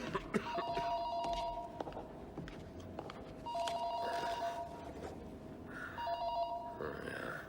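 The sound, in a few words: telephone ringing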